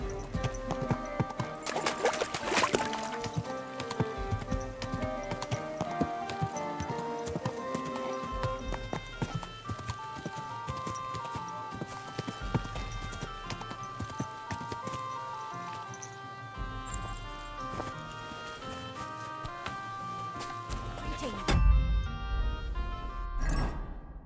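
Horse hooves clip-clop steadily in Kingdom Come: Deliverance II, set in medieval Kutná Hora, heard over continuous game music with a brief neigh near the end.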